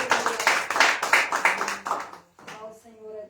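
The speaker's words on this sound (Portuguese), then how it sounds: "Pode aplaudir ao Senhor e Salvador Jesus Cristo." Church congregation at a worship service clapping together in a steady rhythmic beat, with a voice speaking over the clapping before it fades out.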